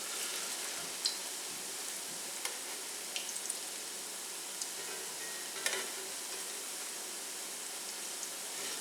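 Zucchini fritters fry in a hot pan with a steady, even sizzle and a few soft pops and scrapes rising above it, close and continuous.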